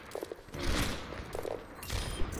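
Gunfire in the video game Necropolis 3: a couple of muffled shot bursts amid rumbling, noisy game ambience, with no one speaking.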